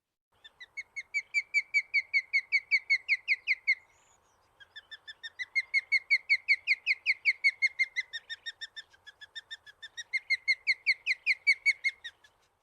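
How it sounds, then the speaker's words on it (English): An osprey at Mono Lake gives repeated short, high-pitched whistled calls in fast rhythmic series, three bursts with a brief pause between, fairly clear and close with no talk. "we have sound piped in here, so you can give a listen to this short high-pitched whistle."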